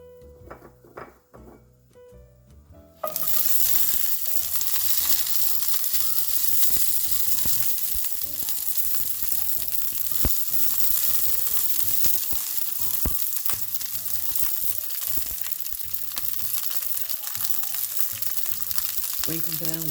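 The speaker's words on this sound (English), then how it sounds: "let's go ahead and get these asparagus into this heated skillet and then get these going as well" Asparagus hits a hot skillet and a loud, bright sizzle starts at once, with a few quiet clinks beforehand. The frying stays steady and close, with scattered pan and utensil knocks and no talking.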